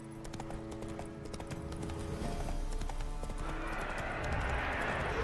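Hoofbeats of Geralt's horse Roach in The Witcher 3, a steady clip-clop rhythm of a running horse over game music and ambient wind, growing louder and more rushing toward the end.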